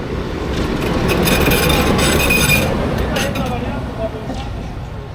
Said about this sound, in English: I'm just waiting for this little blue tram who's going to do a U-turn in a second and take us back down